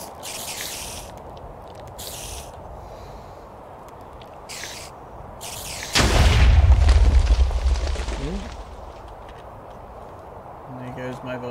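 Volcano erupting in the Minecraft modpack MC Eternal: a sudden deep rumbling boom that swells and slowly fades over a few seconds, with scattered game sounds around it.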